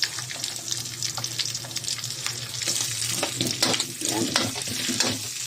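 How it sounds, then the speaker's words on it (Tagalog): Onions sautéing in hot oil with ground meat, a continuous crackling sizzle broken by clattering stirring and scraping in the pan, with a brief spoken word near the start. "Maglagay na tayo ngayon ng sibuyas."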